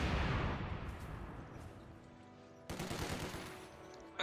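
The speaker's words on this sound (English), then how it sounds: "Mine went off, and there you go, sniper fire." Company of Heroes 2 battle: a heavy gunfire burst opens loud, then decays into a quieter rumbling stretch before a second sharp shot and crackle of rifle fire, all distant and reverberant.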